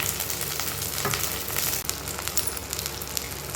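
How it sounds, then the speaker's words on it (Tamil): Chopped tomatoes and shallots frying in hot oil for an oil-based brinjal curry, a steady crackling sizzle with a brief stir partway through, close and continuous with no talking. "தக்காளி வந்து மீடியம் சைஸ் தக்காளி 2 தக்காளி போட்டிருக்கேன், அதையும் போட்டுக்கலாம்."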